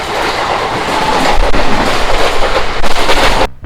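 The Jamnagar Express passenger train, departing Vasai, runs loud and close with a heavy rumble and rattling clatter before the sound cuts off abruptly.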